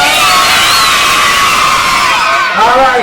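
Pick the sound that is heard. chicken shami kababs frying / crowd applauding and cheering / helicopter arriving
crowd applauding and cheering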